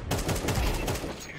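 Rapid, loud gunfire from Counter-Strike 2 fills the whole moment in a dense volley of overlapping shots, with faint talk underneath.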